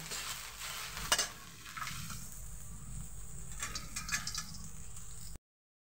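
A sabudana and potato mixture is stirred in a wok-style pan, with scraping, sizzling strokes and a sharp metallic knock near the start, moderately quiet and continuous before cutting off abruptly.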